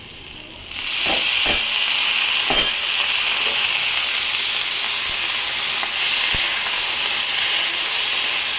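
Broccoli added to a pan of fried onion, a sudden rise into a loud steady sizzle with a few scraping stirs early on, close and continuous, with no voices.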